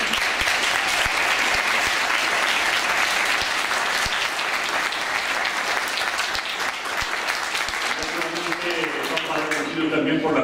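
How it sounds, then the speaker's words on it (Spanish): Strong, sustained applause from a congregation at a church mass and procession, dense and loud throughout, with a voice and music emerging near the end as the clapping continues. "Para todos pedimos un fuerte aplauso."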